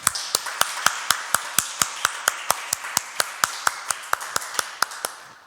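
Steady, evenly spaced claps from a church congregation ring out about four per second, crisp and close, keeping a regular rhythm for several seconds.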